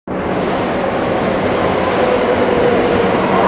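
A tram moving in Porto, Portugal, a loud steady rumble and roar that starts abruptly and holds evenly throughout, close by with no talk.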